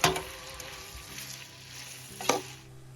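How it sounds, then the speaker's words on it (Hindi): Onions fry in a pan on a stove, giving a steady soft sizzle with a couple of brief stirring scrapes, fairly quiet and close. "हम इन प्याजों को अच्छे से फ्राई कर लेंगे कलर चेंज होने तक"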